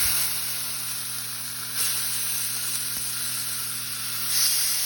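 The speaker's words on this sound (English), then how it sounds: "I'm gonna do a few pieces at a time so you can get a good sear on them." Pieces of beef searing in a smoking-hot cast iron pan give a loud, continuous close sizzle and hiss, with slight swells as the meat settles, and no voices.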